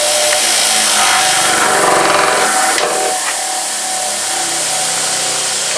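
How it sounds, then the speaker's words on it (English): A bench grinder runs loud and close with a continuous high whine and rough grinding hiss, holding steady throughout with a brief surge partway through. "Always bolt out your bench grinder"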